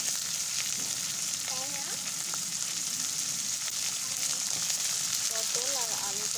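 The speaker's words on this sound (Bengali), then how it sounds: "এবার এর মধ্যে দিয়ে দিচ্ছি হচ্ছে পটলগুলো।" Pointed gourd frying in a pan with potato hisses in a steady close sizzle, while someone speaks briefly over it.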